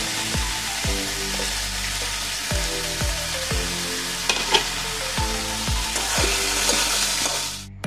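Beans and carrots fry loudly in a pan, a steady close sizzle with regular stirring scrapes across the whole stretch.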